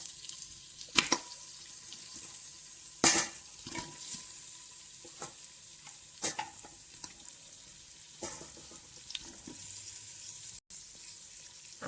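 Mutton trotters going into a pot with turmeric, a low frying sizzle broken by several sharp clinks and scrapes of a spoon against the pan, fairly close, with no talking.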